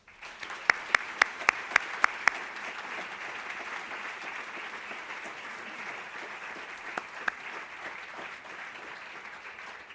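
An audience applauds to welcome a speaker to the stage at a book and author program at the Illinois Holocaust Museum, opening with a few sharp nearby claps, then a steady, moderate wash of clapping that lasts throughout, with no talking.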